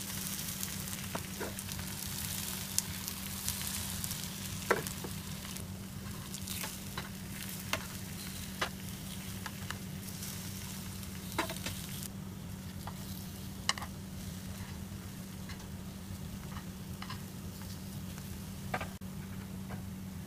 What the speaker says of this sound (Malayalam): ചൂടായ നെയ്യിലോട്ട് നമുക്ക് ഓരോ സ്ലൈസ് ബനാനയായി മാറ്റാം ഇതിനെ നമുക്ക് ലൈറ്റ് ബ്രൗൺ നിറമാകുന്നത് വരെ ഫ്രൈ ചെയ്യണം